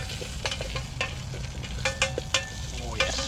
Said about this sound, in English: That's just got the chorizo in there at the minute, just releasing its lovely oils